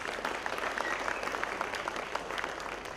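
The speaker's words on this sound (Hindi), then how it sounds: "एक बार जोरदार तालियां हो जाए आप सभी के लिए।" Audience applause at a corporate award night for HCL fills the hall as a dense, steady wash of many clapping hands, moderately loud and continuous with no talk over it.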